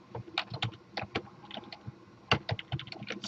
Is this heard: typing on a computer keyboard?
yes